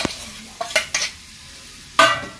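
Bilimbi fries in a pan, with a low sizzle under several sharp scrapes and clinks of a utensil stirring against the metal, spaced out over a couple of seconds.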